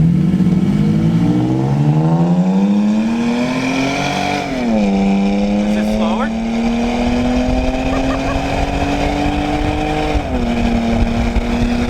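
Toyota Tacoma pickup trucks from 2016 or later accelerate hard in a side-by-side run, their engines rising steadily in pitch with a couple of gear shifts, loud and continuous throughout.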